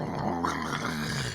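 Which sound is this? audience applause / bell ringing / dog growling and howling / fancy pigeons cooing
dog growling and howling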